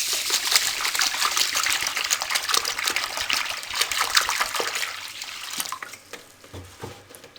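Water splashes and trickles steadily close by as rice is rinsed in a bowl, a continuous wet swishing that eases off slightly toward the end.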